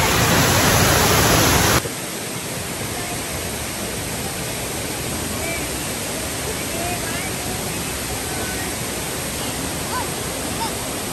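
A river rushes steadily as broadband, hiss-like flowing water, loud and constant throughout, with a brief louder burst at the very start before settling into an even roar.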